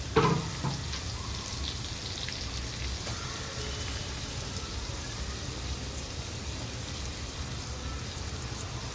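Onions frying in oil with cumin and mustard seeds make a soft, steady crackling sizzle that opens with a brief louder hiss as they hit the pan, then holds at an even level throughout.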